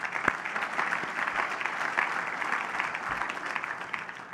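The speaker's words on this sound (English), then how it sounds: "So a round of applause for the team." A conference audience gives a continuous round of applause for the team at a closing keynote, steady dense clapping at moderate distance, unbroken for several seconds with no talk over it.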